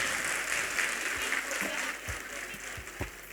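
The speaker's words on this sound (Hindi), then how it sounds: "और अगर आप खुश हैं तो एक बार जोर से ताली बजाएं प्लीज।" Audience applause at a school annual function, a sustained broadband clapping wash lasting the whole clip with a few louder individual claps near the end, moderately close and steady.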